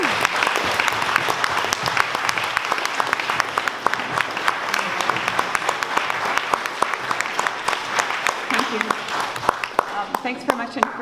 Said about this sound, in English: Please give a big round of applause to Eva Bartlett.